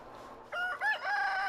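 Rooster crowing on a free-range farm where chickens roam outdoors by day, one clear, fairly close crow rising after a quiet start with soft clucking in the background.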